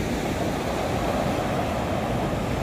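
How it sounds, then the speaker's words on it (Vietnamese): Heavy surf surges continuously onto a beach at Nha Trang, a dense, even roar of big breaking waves with some wind noise and no voices. "Sóng rất là lớn luôn."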